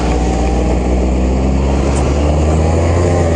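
An Arctic Cat snowmobile with a single-cylinder 400 liquid-cooled engine runs at a steady, loud, throbbing idle close by, with no speech.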